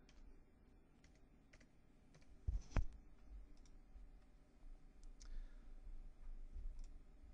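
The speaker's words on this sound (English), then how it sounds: "type in radius." Typing on a computer keyboard while entering values in SolidWorks 2008, quiet close key clicks in quick bursts over a soft background hiss, with a couple of louder taps near the middle.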